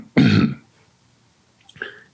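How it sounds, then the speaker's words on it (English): A single gruff throat clearing, close and fairly loud, lasting about half a second, followed after a pause by a fainter, shorter vocal sound. "as I clear my throat"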